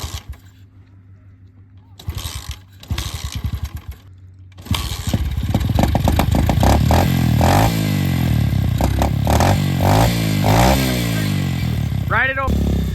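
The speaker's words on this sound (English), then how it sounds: "got the old SSR pit bike, and we're gonna take her at the skate park" An SSR pit bike at a skate park cranks and sputters to life, then idles and revs repeatedly in loud, close bursts, with people talking over the engine throughout.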